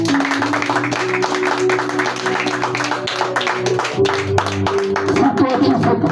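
A church congregation at a French-language service claps loudly and continuously in praise of the Lord, with steady dense clapping that swells slightly toward the end and a voice and tones running underneath.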